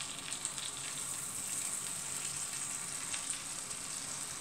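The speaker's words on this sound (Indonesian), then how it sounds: "kita goreng dulu sedikit ya" Pisang bolen pastries frying in hot oil give a steady, close sizzle with fine crackling bubbles, continuous and even throughout.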